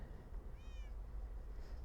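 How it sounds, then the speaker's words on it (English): Cats kept in a video game base give a single short, rising meow midway through, heard fairly faint over a steady low ambient rumble with no voices. "I did manage to tame all 11 cat varieties"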